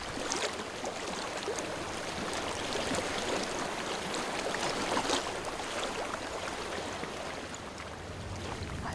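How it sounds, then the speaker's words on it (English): Flowing water in the game Hellblade: Senua's Sacrifice, a steady, dense rushing stream that stays even and fairly loud throughout with no voices. "I hear water."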